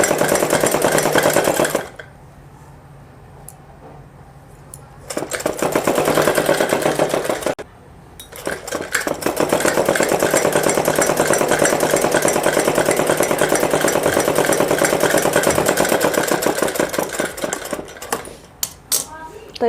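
A sewing machine runs in loud, steady bursts while stitching a fine hem on a plain frock for a young girl. Long whirring runs are broken by short pauses, and there is no talk.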